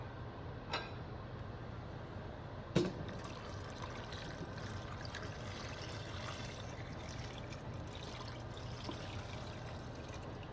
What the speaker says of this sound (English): four glasses of water,